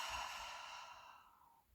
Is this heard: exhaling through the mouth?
yes